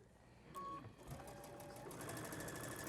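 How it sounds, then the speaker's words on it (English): A sewing machine stitching the folded raw edge of an apron, a brief whirring run of rapid stitches after a short start, close and fairly quiet. "You fold it over, raw edges, and just sew it like this."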